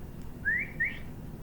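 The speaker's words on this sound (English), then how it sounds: "Suddenly, out came a real whistle!" Two short rising whistle tones come one after the other against a quiet room background, clear but brief, from a whistle blown during a read-aloud of a children's story.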